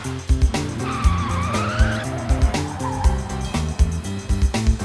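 A monster truck drives and skids, with engine roar and tyre squeals set against loud, bouncy background music with a steady beat throughout.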